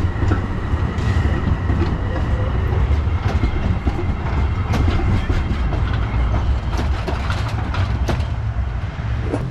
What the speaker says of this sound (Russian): Трамвайчик я вам показал.